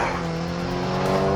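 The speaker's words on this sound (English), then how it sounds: "Tires screeched and rubber burned." A car's tires screech as it speeds off, a loud, sustained squeal over a roaring engine, heard alone without speech for just over a second.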